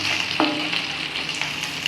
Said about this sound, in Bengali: এই যে নাড়ছে, ভাজা ভাঙা ভাঙা হয়ে গেছে মাছগুলো